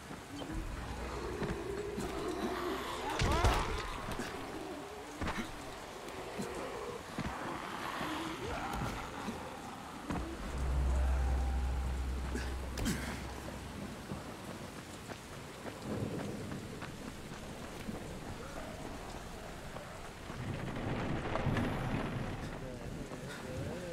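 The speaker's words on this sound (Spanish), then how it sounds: "Ahora está lloviendo." Steady rain hisses throughout in the video game Dying Light, with a deep rumble of thunder rolling in midway and some muffled game sounds around it.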